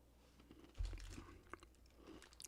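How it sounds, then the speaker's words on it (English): Someone eats Lorna Doone shortbread cookies, and a few close, faint crunches and chewing sounds come through against a quiet background, with no talking. "You hear crunching?"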